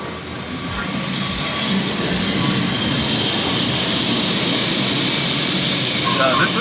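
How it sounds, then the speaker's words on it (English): A rumbling, broadband roar of Lisbon's tram 28 builds and holds steady as it rolls close by on its tracks. "This is tram 28, where everyone like waits for queues to get into it."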